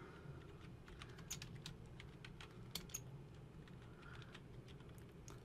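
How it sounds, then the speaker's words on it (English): Someone types on a computer keyboard, a steady patter of soft key clicks with a few sharper taps, quiet and close with no talking. "I'm going to type the class name."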